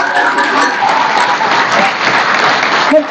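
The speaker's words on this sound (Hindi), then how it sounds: "बहुत जोरदार ताली बजाओ।" An audience at a women's spiritual class claps loudly and continuously, a dense, close roar of many hands with no break for the whole stretch.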